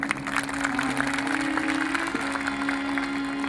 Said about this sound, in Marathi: ज्याला ज्याला हात आहेत त्याने कोणी हात वर करून जरा टाळी वाजवा आपल्यासाठी.